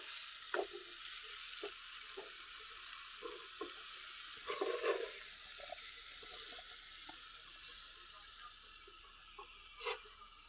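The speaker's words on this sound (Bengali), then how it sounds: "তো চালটা একটু ভেজে নেব।" Rice being fried in a pan for chicken biryani, a faint, low sizzle with scattered light scrapes and taps of a spoon, quiet and close.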